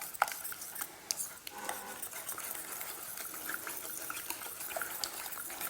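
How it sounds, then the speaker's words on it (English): Liquid blue cheese dressing being whisked in a bowl, a soft, steady wet swishing and light tinkling against the bowl, with a few small clinks, close and fairly quiet throughout. "So nothing too fancy, but whisk that in."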